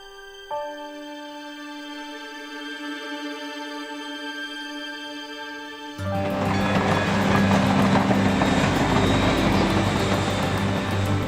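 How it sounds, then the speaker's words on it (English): A Grand Canyon Railway train: a steady tonal hum with sustained whistle-like harmonics, then after about six seconds a loud, broadband rumble of the passing train swells and holds to the end. "The Grand Canyon Railway made its first journey here in 1901."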